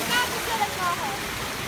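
A river flows in a steady, broad rush of water at an outdoor riverside, continuous and fairly loud throughout, with faint bird chirps above.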